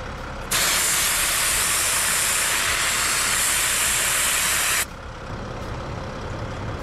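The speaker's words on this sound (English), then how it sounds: "we're gonna air down" Loud, steady hiss of air escaping from a Mercedes Sprinter 4x4 van tire being aired down with an ARB deflator, running about four seconds and then cutting off abruptly, leaving a quieter background hiss.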